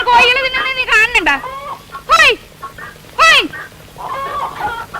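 Chickens clucking and squawking nearby in a rural Kerala yard, a few loud, sharp bursts and calls in quick succession with short pauses between.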